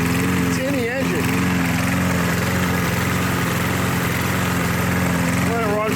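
A lawn mower engine that sat outdoors for a year runs steadily and loud, a constant close drone with steam venting from it, while a person speaks over it.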